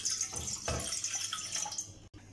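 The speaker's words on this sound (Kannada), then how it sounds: "ಈ ಗ್ಲಾಸಲ್ಲಿ ನಾನು 3 ಗ್ಲಾಸು ನೀರು ಹಾಕ್ತಾಯಿದ್ದೀನಿ" Water poured into a pot for making ragi balls, a steady close splashing and trickling pour with no talk, briefly cutting out near the end.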